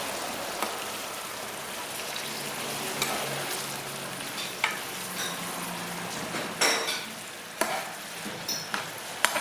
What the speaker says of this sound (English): Saltfish is added. And then we're going to allow it to saute.